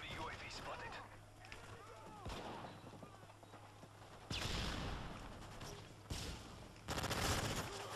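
Gunfire from weapons in the video game Call of Duty: Modern Warfare 3 multiplayer, with loud bursts of shots and blasts at intervals over a low game hum and background sound.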